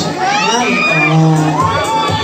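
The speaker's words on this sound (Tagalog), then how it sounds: "kanina pa sila sumisigaw, iniintay ka" A loud crowd of fans screams and cheers nonstop at a red-carpet movie premiere night at Robinson's Galleria, with high-pitched shouting that stays dense and close throughout.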